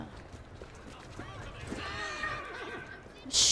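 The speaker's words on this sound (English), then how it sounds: "Stupid horses." Horses neigh in a video game, giving one long, wavering whinny over hoof clip-clop and background game sounds. A sharp noise burst follows at the end.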